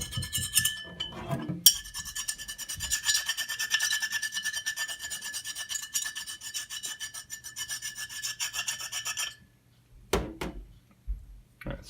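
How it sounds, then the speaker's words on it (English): A butter knife scrapes a paper label off a glass beer bottle in steady, rasping strokes that run for about eight seconds. After a short pause, a few brief scrapes and knocks follow, heard close up with no talking. "You might not need to scrape at it with the butter knife"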